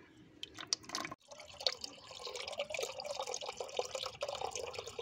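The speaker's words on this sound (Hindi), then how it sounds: "पानी जो है इसकी कोर के थ्रू सप्लाई होके और वापस से बाहर आ रहा है" Water runs steadily through a car heater core while it is flushed out, pushing old coolant and debris through. A continuous splashing, dripping flow sits close by with no talk.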